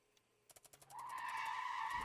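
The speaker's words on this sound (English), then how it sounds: "Close your eyes and hear the brakes screeching." In a horror video game, a quick series of clicks gives way to a rising, sustained high-pitched screech of skidding brakes, growing louder and holding to the end.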